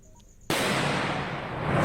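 A 4 kg IED detonated by security forces goes off in a single sudden blast, then a sustained roaring rumble and debris noise that carries on at high level without fading.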